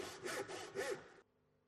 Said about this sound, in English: Using a tenon saw, begin to cut along the waste edge of the gauge lines on 2 faces of the timber.